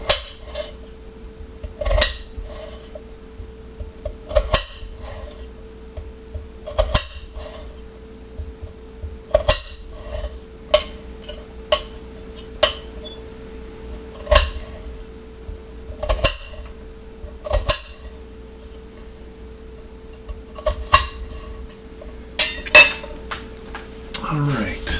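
A knife chops onion on a cutting board in quick, uneven taps and clicks, with brief pauses. A low steady hum runs underneath.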